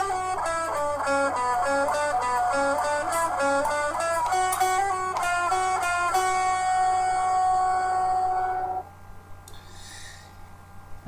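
An electric guitar plays a riff, with fast hammer-on notes in a quick repeating melodic run. It is loud and sustained for about nine seconds before cutting off, and no one speaks.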